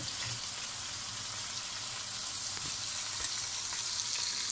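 Meat frying in a kazan for Kazakh pilaf gives a steady, dense sizzle that holds even and close throughout, with faint crackles and small pops rising now and then.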